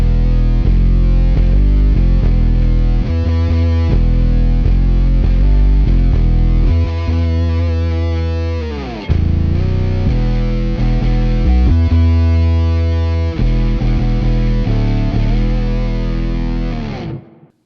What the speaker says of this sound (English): this is a cool sound with like the octave down and then the pitch shifting up.